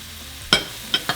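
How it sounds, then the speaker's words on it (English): Onion and minced garlic go into hot oil for steak and shrimp tacos, a soft sizzle bed with three sharp clacks of a utensil against the pan, close and brief. "once our oil is hot, we're going to throw in our onion. And our minced garlic."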